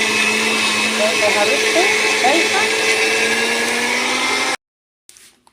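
A kitchen blender whips oil into homemade butter, running with a loud, steady whirring hum for several seconds. The blender then cuts off abruptly and someone speaks briefly.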